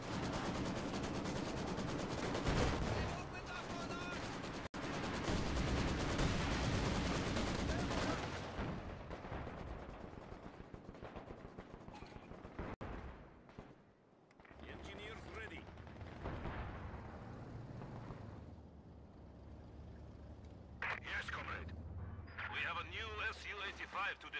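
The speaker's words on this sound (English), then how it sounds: "artillery barrage to target." Artillery barrage in Company of Heroes 2, a 3v3 multiplayer battle: loud, continuous rumbling blasts and crackling gunfire, then a brief lull before scattered booms and rattling shots return, with game voices talking over parts of it.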